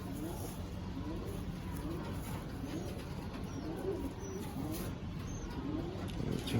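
Pigeons at a busy pigeon market coo in repeated low, throaty rolls amid a steady crowd murmur, with people talking nearby.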